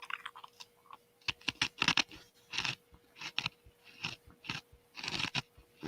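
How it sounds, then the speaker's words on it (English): Close, dry crunching of pretzels being chewed, sharp crackly bites in irregular bursts with brief pauses between them. "If you hear crunching, I'm eating a couple pretzels."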